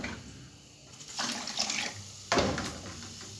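Water pours into a container of sobolo (hibiscus) mixture in two short bursts, a splashing gush that stops and starts again, fairly quiet and close.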